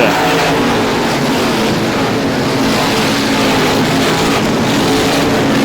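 Race cars roaring away at a green flag start at the 51st Star Classic, a dense, loud, continuous engine drone from several cars held steady throughout.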